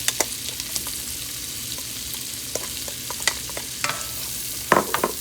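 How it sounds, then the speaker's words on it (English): Pork meat and onions frying in a pan, a steady close sizzle punctuated by scattered scrapes and clicks of stirring, with a slightly louder clatter near the end. "And you're just gonna go ahead and let that and fry that. And you can add your onions to it too."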